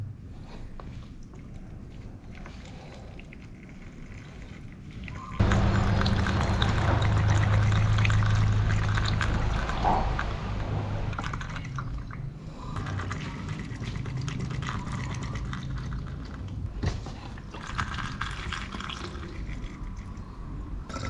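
Oriental Motolite sulfuric acid battery solution, 1.250 SG, poured into a car battery: a continuous liquid trickle and splash that starts abruptly, runs steadily for several seconds, then thins to intermittent dribbles.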